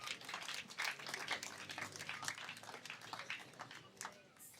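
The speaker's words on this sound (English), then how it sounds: "please give a big round of applause to yourself." A crowd at a church event claps continuously, a dense patter of applause at moderate distance that slowly thins toward the end.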